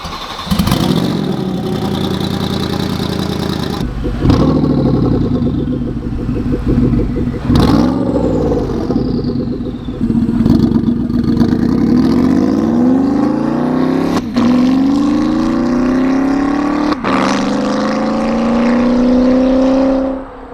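Porsche Panamera Turbo with a catless turbo-back exhaust, revving repeatedly, loud and close: several sharp blips, then long climbing revs with raspy, droning tone, each dropping back to a rumbling idle.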